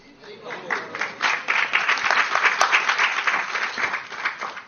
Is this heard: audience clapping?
yes